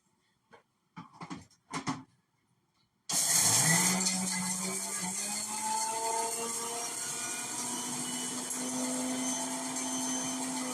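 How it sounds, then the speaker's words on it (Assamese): Electric mixer grinder grinding spices in a kitchen, starting abruptly after a few scattered clatters and then running as a loud continuous whirring roar with rising pitch as the motor spins up. "আৰু এইখিনি ধুনীয়াকৈ মছলাখিনি মিক্সিত মাৰি ল'লোঁ।"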